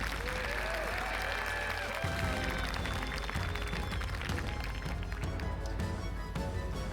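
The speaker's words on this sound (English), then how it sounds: "Loving those crowd cheers." A crowd at the IEM Katowice 2022 StarCraft II esports event cheers and applauds in a steady, distant roar that fills the hall, with faint talk underneath.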